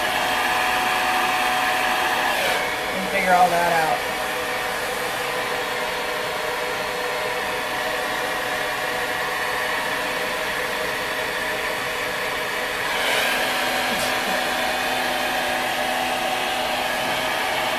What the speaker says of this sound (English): you can kind of hold it the way you would normally hold a blow dryer and take straight sections